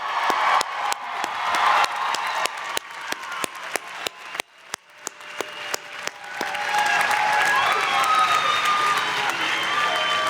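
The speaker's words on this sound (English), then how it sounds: "let's give them a rousing applause and congratulations to everybody" Graduates at Framingham State's 2017 undergraduate commencement draw rousing applause, sharp individual claps near at hand punctuating a roar from the crowd, which swells into a dense, sustained ovation with cheering in the second half.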